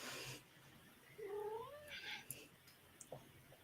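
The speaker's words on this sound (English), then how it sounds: "Is that a cat I could hear?" A small cat meows at close range, with short rising and falling calls against a quiet indoor background and a few faint clicks.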